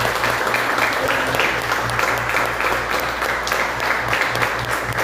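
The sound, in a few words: applause in church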